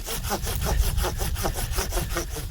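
A cheap hand saw cuts through walnut wood in steady back-and-forth strokes, each pass a loud rasping scrape in a regular rhythm, up close with no talking.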